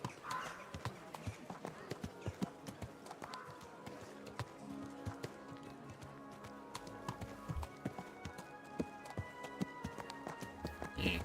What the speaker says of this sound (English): Watch out for that horse.